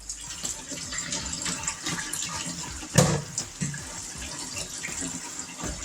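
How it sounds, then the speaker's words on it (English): Tap water runs steadily into a kitchen sink over rice held in a colander, a continuous broadband splashing with a brief louder gush partway through and no talking. "I'm going to let the water run just a little bit so that we can get all the starch out of"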